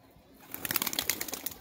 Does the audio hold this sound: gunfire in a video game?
no